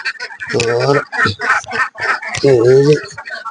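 Ducks in a very large duck coop at about four in the morning, quacking loudly and close in overlapping bursts while eggs are being collected.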